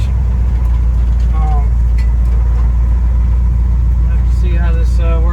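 A 1966 Ford F100 pickup truck drives on the road, a steady loud engine drone and cabin rumble filling the whole stretch, with faint voices heard over it.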